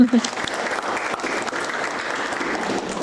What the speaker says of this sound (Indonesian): Boleh kasih tepuk tangan dulu teman-teman?